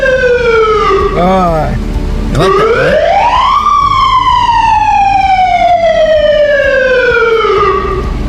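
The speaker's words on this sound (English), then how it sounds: "This is our siren." A loud, close ambulance siren sweeps up and down in pitch, then settles into a long wailing tone, with a brief spoken line over it.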